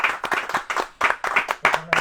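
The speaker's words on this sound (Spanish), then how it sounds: "muchísimas gracias a los dos y un aplauso" Sparse, distinct handclaps from a small audience at a conversation event marking a publisher's anniversary, about a dozen irregular sharp claps over two seconds, close and fairly loud.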